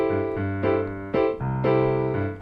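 A piano plays a Latin-style pattern with both hands, bass notes and chords shifting in a syncopated rhythm over a few bars, clear and close with no talking.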